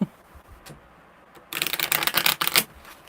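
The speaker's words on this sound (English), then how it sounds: "Good shuffle." Tarot cards are shuffled briskly in a smooth riffle lasting over a second, with crisp rapid flutters close up. Quieter handling taps come first, and no one speaks.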